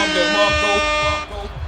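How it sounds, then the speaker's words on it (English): A loud, brassy air horn sound effect blares in one sustained blast, then cuts off abruptly into quieter background noise. "Let's go ahead and give that one an air horn."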